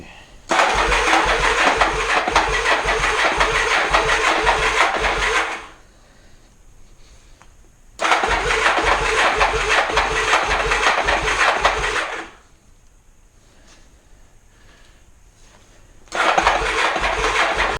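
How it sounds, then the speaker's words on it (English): A motorcycle engine is started cold after sitting unused for about a month. It makes several loud cranking and starting attempts lasting a few seconds each, separated by quieter gaps, recorded close by. "I haven't fired it up in about a month, and it's cold as fuck"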